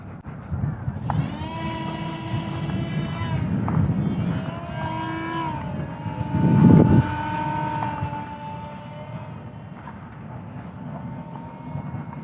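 An ESKY Sparrow RC biplane motor at full throttle, a whining buzz with rising and falling pitch as the plane passes overhead, swelling loudest midway and fading away outdoors.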